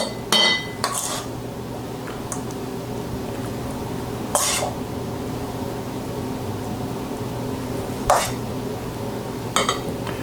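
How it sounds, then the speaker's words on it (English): Wild and white rice pilaf being plated, with a few sharp clinks of a utensil against dishes scattered over a steady background hum, fairly close and without talk. "And then we'll plate."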